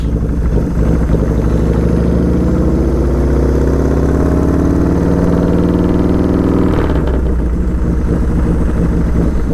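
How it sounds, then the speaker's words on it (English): A springer-fork motorcycle engine idles steadily and loudly up close, a deep throbbing rumble with a slight shift in pitch partway through. "Hearing how good this motorcycle sounds."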